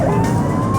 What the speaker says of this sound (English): Sirens are blaring and the blue lights flashing